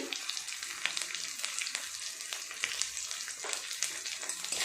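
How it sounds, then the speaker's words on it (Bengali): Spices with Kashmiri chilli powder and salt frying in a pan for a chicken curry, a soft, steady hiss of sizzling oil with faint crackles and occasional stirring scrapes, close and fairly quiet. "খুব ভালো করে সমস্ত মশলাটা একটু কষিয়ে নেব।"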